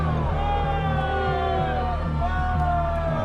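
A dense, angry crowd jeering and shouting, loud and continuous, with overlapping yells and bellowing voices throughout.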